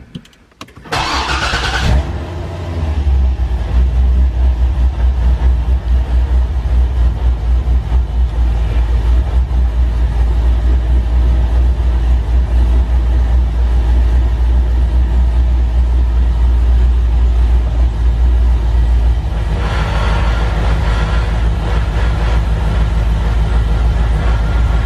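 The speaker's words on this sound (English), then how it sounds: "let's go ahead and start the car and give it a try." A Chevrolet C6 Corvette fitted with a paddle-shift mod cranks and fires up with a sharp burst, then settles into a loud, steady, deep idle rumble that holds close by for the rest of the stretch, with no talk.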